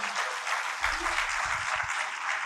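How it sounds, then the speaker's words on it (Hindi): An audience at a poetry recital applauds to welcome a poet, a steady dense clapping throughout, with a few faint voices underneath. "तो ताली बजाइए, स्वागत करिए इनका।"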